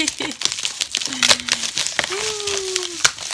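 Crinkly plastic packaging wrapped tight with tape being pulled open during an unboxing, a busy rustle running under constant excited talk in French.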